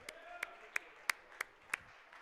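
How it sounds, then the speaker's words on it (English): Six sparse, evenly spaced claps from a small audience at a Lunabotics 2025 robotics competition, ringing out faintly in a large open space. "Let's give UIC a big round of applause for a job well done."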